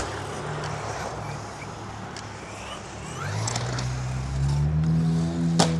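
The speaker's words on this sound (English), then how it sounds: "there's a lot of loud cars up here" Loud cars drive by along a road near a set of stairs, a continuous engine rumble that swells into a rising, revving roar as one passes close, with a brief sharp click near the end.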